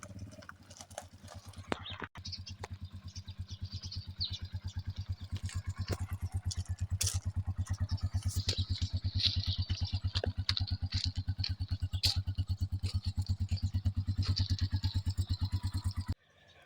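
A motorcycle engine idles close by with a fast, steady chugging pulse that holds an even rhythm for the full length before cutting off abruptly at the end.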